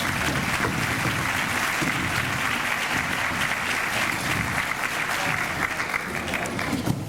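An audience at a 2009 distinguished teachers awards ceremony claps steadily, a dense, sustained round of applause filling the hall without pause and with no clear speech over it.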